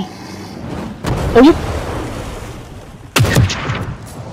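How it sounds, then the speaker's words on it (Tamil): Sniper rifle shots in The Evil Within 2, two loud sharp reports about two seconds apart standing out over game ambience and voices. "நம்ம ஸ்னைப்பர் எடுத்து நல்லா வருது ஸ்னைப்பரு"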